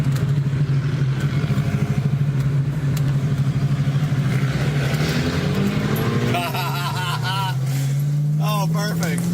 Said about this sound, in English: BMW with the burble tune.